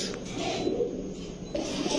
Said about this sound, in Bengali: এটা কি? পাঙ্খা কবুতর